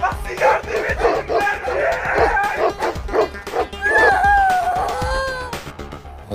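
Several dogs bark and yip in quick bursts, close and loud, with some whimpering whines toward the end.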